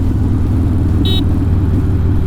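Harley-Davidson Iron 1200 big-bore motorcycle short-shifted without reaching the upper revs, a loud, steady low rumble close by, with a brief high whine partway through.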